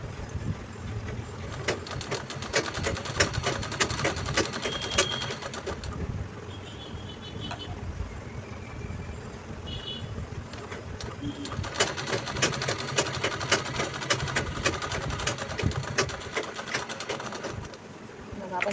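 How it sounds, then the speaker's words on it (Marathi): A sewing machine runs on and off while it stitches a button strip onto a readymade blouse. It gives a steady mechanical whir that pauses midway and then resumes, and birds coo faintly in the background. "आधी याच्यावरती शिलाई लावून घ्यायची आहे."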